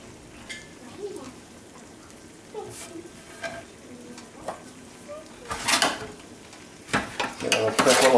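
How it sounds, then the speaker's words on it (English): Chicken, pears, rosemary and thyme being stirred with oil in a pan: scattered scraping and clattering clicks, soft sizzling, then a few louder rattling stirs toward the end. "Give it a quick little stir."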